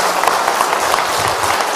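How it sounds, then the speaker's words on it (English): A city-event audience breaks into loud applause for its city manager, a close, dense burst of many hands clapping together over the whole short stretch. "can we get a round of applause for our city manager,"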